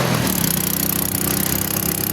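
A Motor Star 155 motorcycle engine labors uphill with a loud, steady, buzzing drone and a rapid pulsing rhythm, close by and with no talking.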